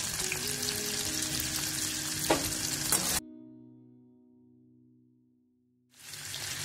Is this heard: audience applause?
no